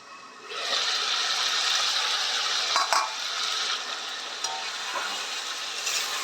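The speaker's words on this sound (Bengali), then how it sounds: "আজকে আমি রান্না করছি চিকেন কষা" Chicken kosha cooks in an iron wok with a steady, close sizzle, overlaid with scraping stirs and a sharp metallic clank partway through.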